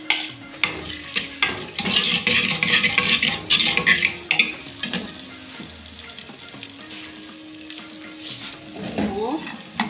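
Chopped onions sizzle and fry in about half a cup of hot oil in a pan while a spoon stirs and scrapes them steadily, with a continuous crackle and occasional clinks.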